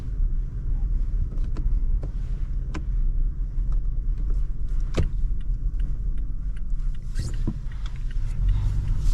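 A 2023 Toyota Tacoma mid-size pickup drives at low speed, with a steady road and engine rumble, wind buffeting the microphone and occasional small knocks and rattles inside the cab throughout.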